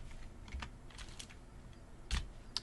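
Computer keyboard keys are pressed in a few scattered clicks, including the Tab key in a terminal, close and quiet, with one sharper tap near the end and no speech.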